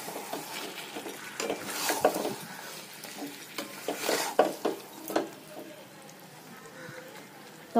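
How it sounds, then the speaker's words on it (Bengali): Pre-fried potatoes are stirred into chicken curry in a pan, with repeated scraping and clinking of a spatula against metal over a soft background sizzle, in uneven bursts close by. "আগে থেকে ভেজে রাখা আলুটাকে দিয়ে মাংসের সাথে আলুটাকেও ভালোভাবে কষিয়ে নেব"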